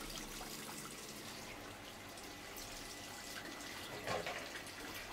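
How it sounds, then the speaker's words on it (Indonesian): Water runs from a tap while the inside of a milkfish belly is rinsed clean of blood, a faint, steady splashing stream with a brief louder splash near the end. "nah itu dicuci kita bilas bagian dalam perut bandeng agar semua darah hilang"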